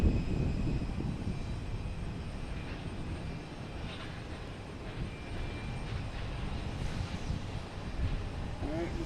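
Jet airliner engines roar continuously at Boston Logan Airport, a broad rumbling wash that swells slightly, heard from a spotting position with faint background activity.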